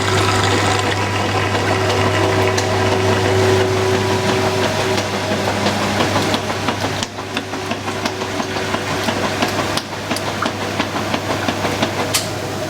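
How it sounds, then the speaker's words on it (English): A washing machine runs its bleach dispenser with a steady hum, a faint whine and irregular watery pumping and clicks, close by with no talking. "Hear the bleach dispenser going."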